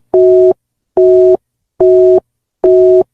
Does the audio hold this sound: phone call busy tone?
yes